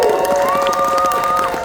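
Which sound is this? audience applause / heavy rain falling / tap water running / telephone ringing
audience applause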